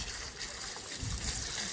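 Water is poured over freshly picked jamun (Java plum) fruit to wash them in rural Konkan, making a steady close splashing and trickling rush that lasts throughout.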